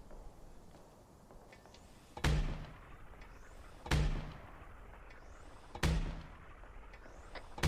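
Artillery rounds fire in a military video game: three loud, sharp booms about two seconds apart, each trailing off in a short rumble, with a fourth starting at the very end over quiet ambience.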